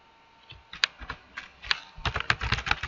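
Computer keyboard typed on while writing PHP code: quiet, close key clicks, sparse at first and then quicker irregular tapping.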